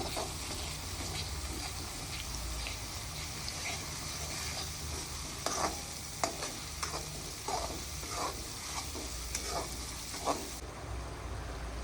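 Boiled potatoes being mixed into gravy in a hot pan for Dhoraji-style bhungra bateta, a continuous close sizzle with repeated scraping stirs and utensil knocks, growing busier in the second half.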